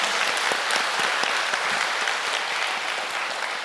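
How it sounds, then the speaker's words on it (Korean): A large audience at a Cheon Il Guk peace blessing ceremony for married couples claps in dense, steady applause that holds at an even, loud level from start to finish. "다시 한번 큰 박수로 축하해 주시길 부탁드립니다."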